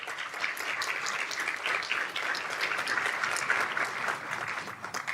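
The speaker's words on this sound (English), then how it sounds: "Can you give them a round of applause, please?" A luncheon audience gives a round of applause, a steady patter of many hands clapping at a moderate distance, even and continuous without a break.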